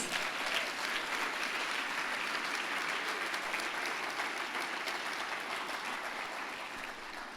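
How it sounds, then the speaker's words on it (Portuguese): Dense, sustained applause from a church congregation filling the room, steady and even throughout before easing slightly at the end. "Você pode dar uma salva de palmas para Jesus?"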